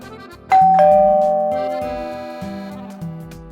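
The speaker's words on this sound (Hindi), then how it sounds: "क्या बार बार डोरबेल बजा रहे हो?" A two-tone ding-dong doorbell chimes close and loud, then rings again in a rapid repeated pattern of falling tones that fade between presses, with no voices.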